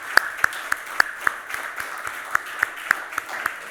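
A Korean church congregation in Chile claps more strongly to welcome a first-time young attendee, with crisp, regular beats about three or four per second rising over a steady bed of scattered applause.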